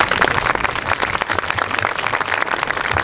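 An audience at a Veterans' Day ceremony in North Reading applauds the high school band, a steady, dense wash of clapping filling the whole stretch at fairly close range.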